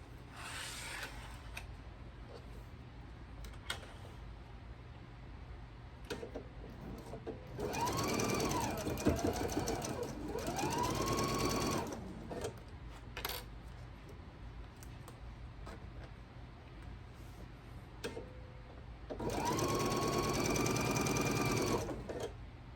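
A sewing machine stitches quilt block seams in bursts of steady running, with a sharp rise in pitch as each run speeds up and quieter pauses in between.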